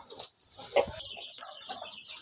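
Chickens in a coop with young chicks, soft scattered clucks and chirps, quiet and close, with a few brief sharper calls.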